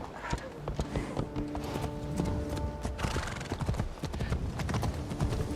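Horse hooves clip-clop steadily in a video game set in feudal Japan, a dense, close rhythm of hoofbeats with a brief whinny, over a layer of game music and effects.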